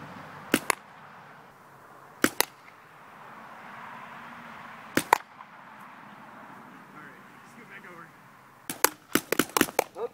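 Several sharp, snappy shots from a paintball gun fitted with a bipod, stock and red dot sight, single pops early on and then a quick burst near the end, over a steady outdoor background hiss.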